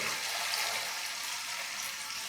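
A thin stream of homemade gooseberry wine pours steadily into a container close by, with a continuous soft splashing gurgle and no talking.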